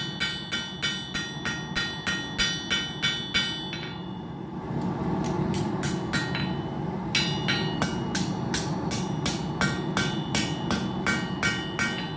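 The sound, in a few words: hammering hot titanium on an anvil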